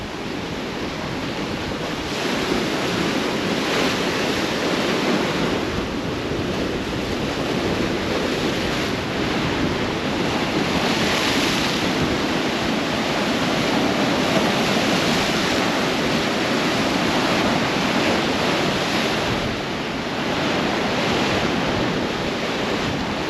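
Big, rough ocean waves break and wash continuously onto a beach on an island near Bimini, a loud, steady roar with surging swells and some wind noise across the microphone.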